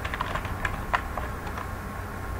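Quick, light keystrokes on a computer keyboard while entering a web address, a short burst of soft clicks at close range in a quiet room.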